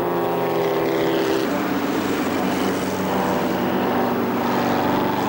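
A Jowett Jupiter racing car passes at Silverstone during an 8 Clubs race meeting, its engine drone loud and steady throughout with a shift in pitch partway as it goes by, no voices over it.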